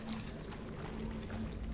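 Water pours down like a shower in the Portal 2 video game, a steady, broad rushing hiss with a low hum underneath, constant and moderately loud throughout.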